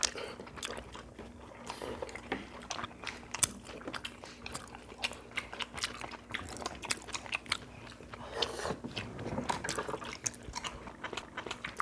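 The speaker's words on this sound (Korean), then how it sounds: "야 떡볶이 진짜 오랜만에 먹네" Spicy tteokbokki rice cakes are eaten close to the microphone, with soft chewy bites and wet chewing in an uneven rhythm, and brief murmurs of speech in between.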